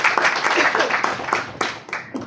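Audience applause at the opening session of a national conference on press freedom and access to information in Angola, a dense burst of clapping that swells and then thins toward the end, with some speech mixed in.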